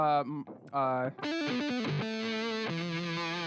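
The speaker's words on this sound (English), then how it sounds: "That's an overdriven Mesa sound." Overdriven Mesa amplifier guitar tone run through a Maestro effects pedal: loud, sustained distorted notes with rich harmonics that shift pitch and then hold steady, after a short choppy opening.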